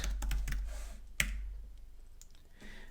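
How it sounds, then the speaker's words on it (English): Computer keyboard clicking as a short terminal command is typed, a quick burst of close keystrokes followed by one firm key press and a few lighter taps. "Here we'll type brig init and give the project an ID"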